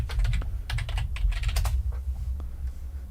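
Fast, uneven typing on a computer keyboard, with close, crisp key clacks in bursts that thin out toward the end, no speech.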